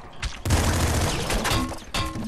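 A golden shotgun fires in the top-down shooter Nuclear Throne, a burst of booming blasts with a rapid scattered crackle, loud and close, repeating twice in quick succession.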